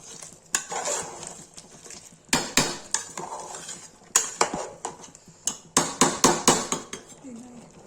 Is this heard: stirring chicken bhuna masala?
yes